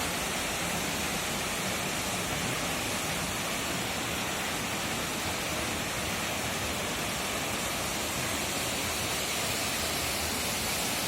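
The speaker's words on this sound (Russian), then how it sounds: "Такой водопад." A waterfall in the Karadakh gorge in Dagestan pours in a dense, unbroken roar of falling water, loud and steady throughout with no voices.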